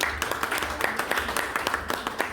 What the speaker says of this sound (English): a big round of applause for Rayvanny